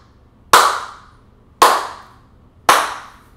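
Three loud, crisp hand claps in a room treated with acoustic panels, evenly spaced about a second apart, each followed by a brief fading room echo; no voices.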